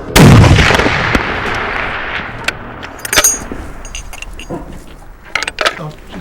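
A McMillan TAC-50 sniper rifle fires a single heavy boom that rolls out and decays over several seconds, followed by faint metallic clicks and outdoor noise, with some voices in the background.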